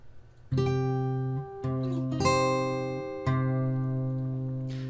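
Fingerstyle acoustic guitar playing measures 9 and 10 of a theme, a few plucked notes ringing out clearly with sustained decay, played alone with no talking.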